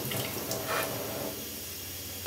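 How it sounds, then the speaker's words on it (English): Water poured onto water-resistant hybrid jacket fabric, beading up and running off in a steady close hissing splash that continues for a couple of seconds. "You can see the water beads up and runs off"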